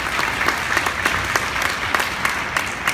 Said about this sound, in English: Please, round of applause for Eugene.